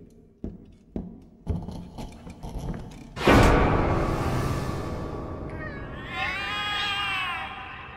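Cats in the horror game The Cat Lady meow and caterwaul, starting with rhythmic thumps before a loud burst, then a long, wavering, rising yowl rings out clearly near the end.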